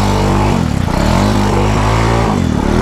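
A four-wheeler's engine revs loudly and steadily as the machine sits stuck in pond mud, its pitch rising and falling through continuous straining, with no talk over it.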